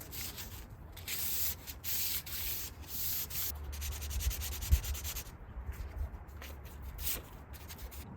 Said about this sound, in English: So I have a 240 grit sandpaper. I'm going to use that to go back and forth on this neck here.